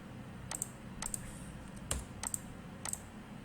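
Quiet typing on a computer keyboard comes in five short bursts of clustered clicks against a faint background hum, with no voices.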